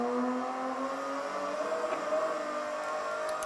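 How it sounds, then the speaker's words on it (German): A VW Scirocco race car accelerates out of a corner at Hockenheimring, its engine note a steady rising drone heard from inside the cockpit, with no talk over it. "das Auto drehen und wieder raus beschleunigen"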